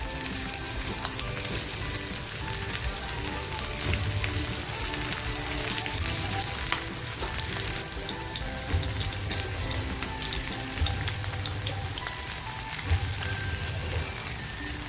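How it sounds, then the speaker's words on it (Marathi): Squid rings frying in hot oil, a dense continuous crackling sizzle that stays loud and even throughout, with occasional low bubbling swells and no speech. "आता ह्या ज्या रिंग्स आहेत ना त्या मी तळून घेते आहे तळून म्हणजे फ्राईज करून घेते"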